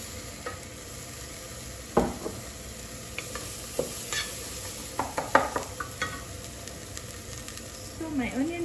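Tomatoes, jalapeno and green pepper going into a pan of browned onions for Ugandan pork stew, steady sizzle with scattered clanks and stirring knocks of a utensil against the pan.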